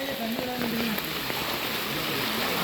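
Heavy rain pours down in a flooding village as a dense, constant hiss and patter. A voice is faintly heard early on.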